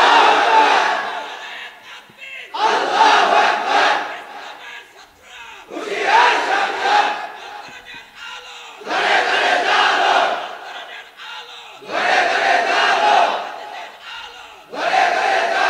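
A large crowd at a religious sermon shouts takbir in loud, rhythmic call-and-response, six powerful collective roars each lasting about a second or two, separated by short quieter gaps.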